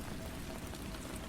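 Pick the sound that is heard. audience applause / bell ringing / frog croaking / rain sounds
rain sounds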